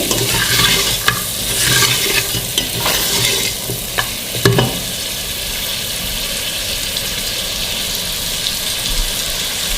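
Mutton pieces sizzle and fry in a pot for yakhni while a spoon stirs them, with scraping strokes and clatter early on that fade into a steady, even sizzle.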